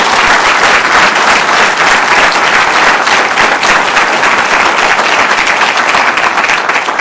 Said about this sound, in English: our police department deserves a round of applause for that